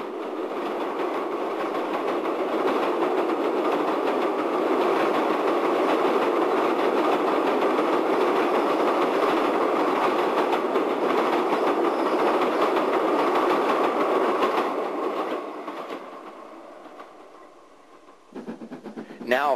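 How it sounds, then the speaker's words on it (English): An LNER steam locomotive hauling a train of Great Western passenger stock rumbles past close by, a loud, steady roar with rhythmic wheel clatter that fades toward the end. "An LNER locomotive heads a train of Great Western stock"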